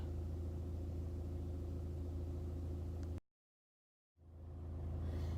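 A car reverses on a road, heard as a low, steady engine rumble that cuts out abruptly into about a second of silence and then swells back in.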